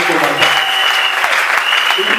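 A church congregation applauds and cheers in a dense, loud, continuous wash of clapping with voices mixed in throughout.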